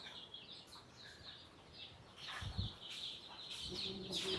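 Chickens and chicks clucking faintly at a relatives' home in rural Honduras, scattered short calls over a quiet outdoor background.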